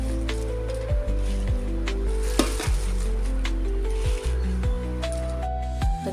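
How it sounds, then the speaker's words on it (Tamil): Amaranth greens being stirred into a pot of cooking dal with softened onion, tomato and green chilli, giving repeated wet squishing and scraping strokes at close range with a faint simmering hiss underneath, and no talking. "கீரை வேகிறதுக்கு கரெக்டாக இருக்கும் டைம் வெங்காயம் தக்காளி பச்சை மிளகாய் எல்லாம் பருப்பில் போட்டிருந்தோம்ல அது எல்லாமே நல்லா குலைவாக வெந்துருச்சு இப்போ கீரையை ஆட் பண்ணிக்கலாம்"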